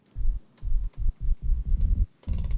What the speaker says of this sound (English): My QWERTY keyboard here.